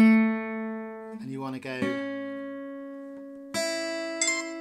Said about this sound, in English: it makes a little sound for you when you've done it correctly.